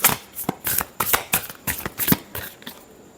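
Tarot cards being shuffled for a love reading, a run of crisp riffling bursts at a steady rhythm, close and fairly loud, with no voices.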